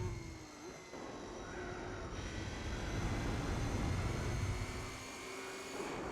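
A racing Audi from Gran Turismo 4 passes during a 24-hour race at Circuit de la Sarthe, a steady engine roar rising and falling over a continuous background drone with no talk.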